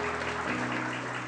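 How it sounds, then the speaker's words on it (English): Audience applause at a large networking event, a steady wash of clapping from many hands that fills the whole moment, with a faint tonal hum running underneath. "Can everyone give her band a big round of applause"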